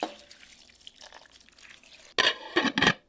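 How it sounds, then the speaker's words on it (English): One cup of water poured into a slow cooker, a short splashing pour that starts quietly and then surges into a louder, gurgling burst of a few splashes near the end, close up, with no speech. "Add 1 cup of water."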